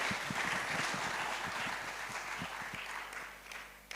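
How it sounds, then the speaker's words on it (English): Audience at a conference closing ceremony applauding, a broad clapping wash with a few distinct nearby claps, fading and thinning toward the end. "give a bit of round of applause for all the people present here"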